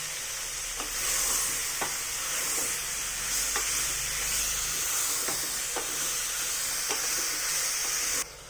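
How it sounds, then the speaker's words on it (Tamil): Large mushroom pieces sauté in a pan with a steady, bright sizzle, broken by occasional scraping stirs, close and continuous with no voices. "ஸோ இதையும் வந்து நல்லா இப்போ சாட்டே பண்ண போகிறோம்."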